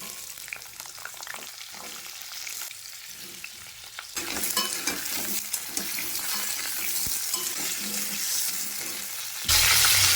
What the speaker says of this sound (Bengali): এবারে দিয়ে দেব কেটে রাখা আলু আর সজনা ডাঁটা।